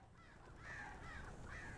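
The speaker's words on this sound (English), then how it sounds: "It's the birds." Crows caw in the Alan Wake Remastered video game, two or three drawn-out calls at a faint, distant level with nobody speaking.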